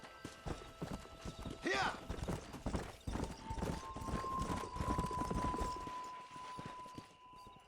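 Hoofbeats from a horse galloping in Red Dead Redemption drum quickly and steadily, with a whinny and shouted voices over game sound.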